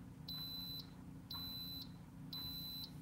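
Kitchen cooker buzzer beeping three times in a steady rhythm, each electronic tone lasting about half a second, clear and fairly close over a low steady hum.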